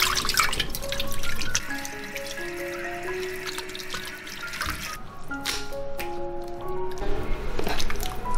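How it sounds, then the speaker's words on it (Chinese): Beef brisket is washed under a running kitchen tap, with steady water streaming and splashing into a sink and dripping throughout, plus squishy handling of the meat. "牛腩我们先来清洗干净。"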